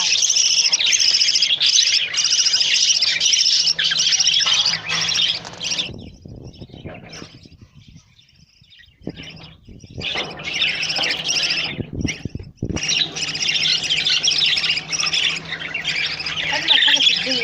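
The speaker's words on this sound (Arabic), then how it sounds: "اجمل حاجه في الدنيا انك تشوف العصافير كده وهي بتكبر قدام عينيك." Small pet birds raised at home chirp and squawk in a dense, continuous chatter at close range. The chatter thins briefly midway, and a voice talks over it at times.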